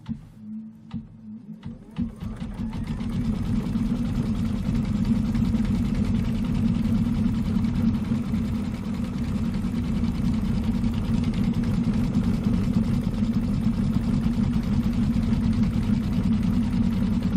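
A Kimberbell embroidery machine hums steadily and continuously as it stitches a dark gray design for a pillow wall hanging, starting after a few faint clicks.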